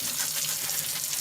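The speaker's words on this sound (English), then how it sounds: "Wash this little grate." A small Instant Pot grate is rinsed under a running tap, giving a steady, close hiss of flowing water.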